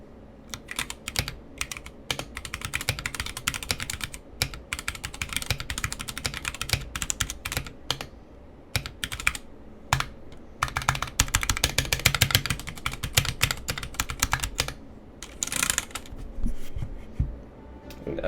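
A DZ60 mechanical keyboard with brown switches and matcha keycaps clatters under steady typing, a dense run of close, crisp keystrokes with brief pauses between bursts.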